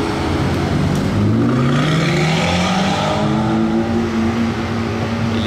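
A Mercedes Black Series sports car with an aftermarket exhaust rumbles loudly nearby on a street in Monaco, its engine note rising through several revving sweeps and then holding a steady drone.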